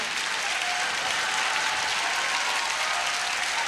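Sustained, dense audience applause at a cabaret comedy show, steady and loud throughout with no speech over it.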